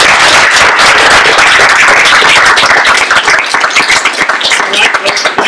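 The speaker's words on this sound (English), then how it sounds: "And I just want a round of applause." Conference audience breaking into loud, dense applause, many hands clapping together close by and steadily, thinning slightly toward the end.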